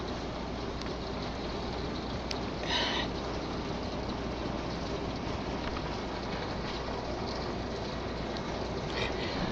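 Heavy storm rain pours outside in a dense, constant hiss of drops on surfaces, loud and unbroken, with a few brief brighter spatters and no voices.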